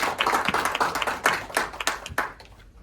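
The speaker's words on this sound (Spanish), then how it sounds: "un aplauso para ellos" An audience at a legal lecture on the victim's role in criminal proceedings claps for the organizers, brisk close applause with distinct individual claps that tapers off near the end.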